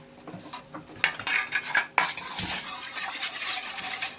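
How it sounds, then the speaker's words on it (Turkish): A spoon clinks and scrapes against a bowl while a yeast, sugar and salt mixture is stirred for Ramadan pide dough, with irregular close metallic taps and swishing and no speech. "Biraz karıştırıyorum."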